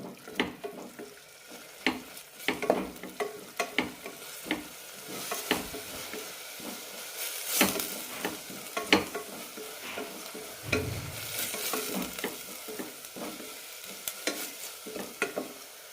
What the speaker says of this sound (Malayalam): മസാലയ്ക്ക് നല്ല റോസ്റ്റഡ് സ്മെല്ല് വരുന്നവരെ വഴറ്റിയെടുക്കണം.